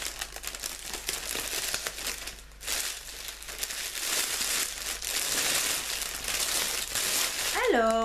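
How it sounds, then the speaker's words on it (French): Paper is crumpled and pulled from a candle mystery box, a close, continuous crinkling and rustling, with a voice speaking over it briefly. "Je vais enlever le papier qui fait du bruit."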